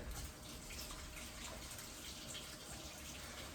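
Running tap water splashing steadily over a fat raw potato as it is rinsed of dirt by hand in a kitchen sink, a continuous close gush with no speech.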